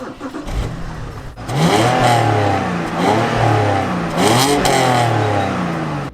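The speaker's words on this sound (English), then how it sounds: "Let's start the engine and tell you what the mileage is." A manual BMW 530i engine cranks and catches, then settles into a steady idle with a couple of revs, loud and close.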